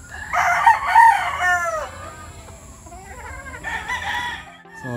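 Gamefowl roosters crow at Rolling Hills Game Farm in Montalban, Rizal, with several loud, close calls overlapping one another and fainter crows answering in the background.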